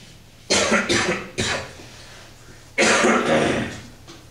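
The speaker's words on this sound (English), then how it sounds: "Sorry about the cough" Several harsh coughs come close to the mic, a quick burst of three, a pause, then one longer rough cough.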